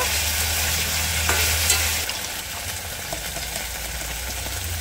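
Potato curry with salt being stirred in a pan, a continuous frying sizzle with soft stirring scrapes under a low steady hum.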